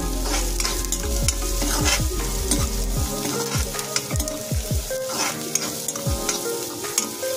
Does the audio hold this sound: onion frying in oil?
yes